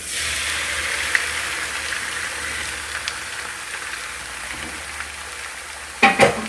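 Two eggs fry in a pan as part of a low-carb fried rice meal prep, giving a steady soft sizzle throughout with a brief louder clatter near the end.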